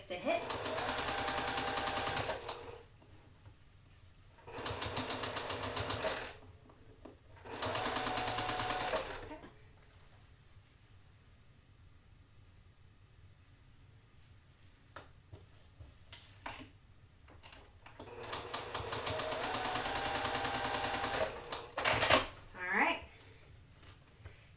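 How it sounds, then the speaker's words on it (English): A sewing machine stitches quilt block seams in several separate bursts of rapid mechanical chatter, each a few seconds long with pauses between. Someone talks quietly in the gaps. "fold these over like so and sew it down that direction"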